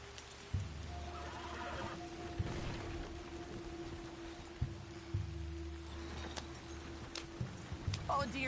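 A horse in the video game Red Dead Redemption 2 neighs and whinnies repeatedly over clip-clopping hooves and a low droning game score, with several sharp thuds and a busier clatter near the end.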